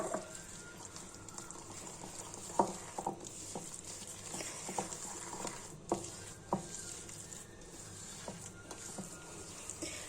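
Semolina batter for harcha is stirred with milk in a bowl, giving soft, faint, irregular scraping and sloshing taps with no talking.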